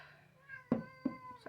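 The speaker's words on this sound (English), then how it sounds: "Sorry about the cat, guys." A cat indoors meows close by, a drawn-out call followed by two short sharp meows in quick succession, faint overall with a quiet background.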